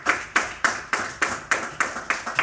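A small group claps in a steady, evenly spaced rhythm at an awards celebration, about eight sharp, close bursts of applause over a couple of seconds with no voices.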